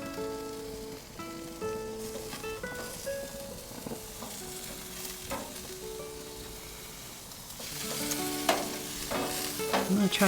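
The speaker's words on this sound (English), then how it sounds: "Get a little bit more of a good sizzle going here." Steak and shrimp kabobs sizzle steadily on a grill, a continuous close crackling hiss with brief pops and clinks throughout, growing louder and busier toward the end.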